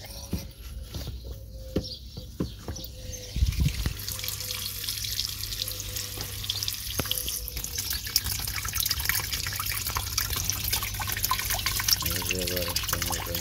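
Water runs and splashes for farm animals to cool off, a steady close trickle with drips and patter throughout, joined by scattered clanks and handling noises.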